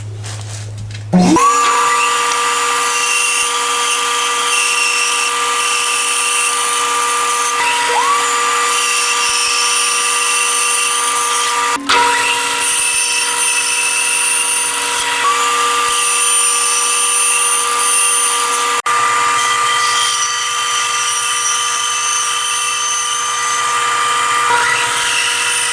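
Power saw at a jobsite, run against a fence and cutting workpieces one after another for drawer organizers: a loud, steady high-pitched whine held for long stretches, with brief dips and changes in pitch as each piece is cut.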